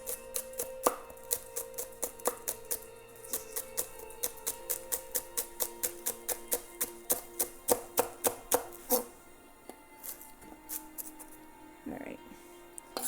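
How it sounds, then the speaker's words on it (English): Rapid, steady knife chops on a cutting board while preparing macaroni salad ingredients, a long run of close, evenly spaced strikes that stops near the end, with someone humming and talking softly over it. "And we'll chop this up."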